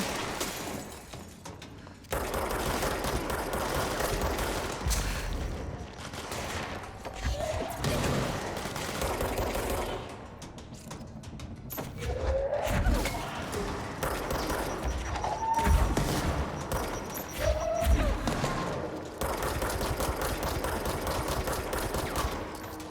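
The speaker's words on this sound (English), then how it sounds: "Hold on, my gun's reloading. That is a scary noise." Gun firing and reloading in the action game Control, with bursts of gunshots and mechanical clicks and clatter spread across a tense fight, loud and close throughout.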